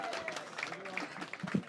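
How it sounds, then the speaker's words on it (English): Comedy club audience gives a round of applause as the comedian takes the stage, scattered clapping and cheering, fairly faint and brief with voices and whoops over it. "Start the round of applause."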